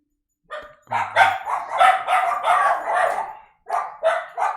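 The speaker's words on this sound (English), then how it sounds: "sorry about the dogs" Several dogs bark in a nearby room, a burst of overlapping barks lasting a few seconds, a short gap, then a few more sharp barks.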